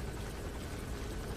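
Helicopter in the video game Metal Gear Solid 5: a steady, dense rotor and engine roar filling the whole moment, constant and fairly quiet with no talking.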